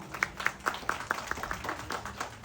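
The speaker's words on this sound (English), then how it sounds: "Please give a big round of applause for Pasha and his family." Audience clapping for Pasha and his family at a Canada Day community event, a loose run of distinct claps close together at a moderate level with no voices.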